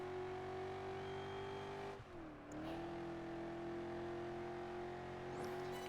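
Ford Mustang engine in the racing game Project Gotham Racing 4, a steady loud drone held in third gear, dipping briefly around two seconds before climbing back to a sustained tone.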